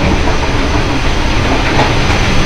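Loud, constant rumble and rattle from inside the Singasari executive passenger train as it runs on the rails. Broadband noise with a faint clickety-clack fills the whole clip, and no one speaks.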